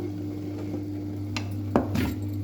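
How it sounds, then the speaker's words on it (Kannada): Laddu ingredients with cardamom powder are mixed in a bowl, giving a few faint scrapes and clinks of a utensil against the dish over a steady low hum, with two sharper knocks near the end. "ಈಗ ಚೆನ್ನಾಗಿ ಕಲಿಸ್ಕೋಬೇಕು"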